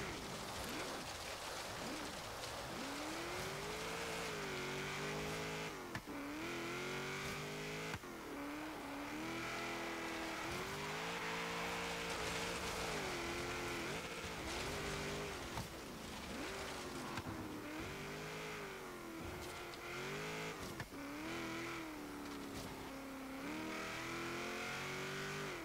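A 1970 Chevrolet Corvette ZR-1 in the Forza Horizon racing game on an autocross course, its V8 engine roaring loudly and continuously as it revs up and drops with each shift and corner, with no talk over it.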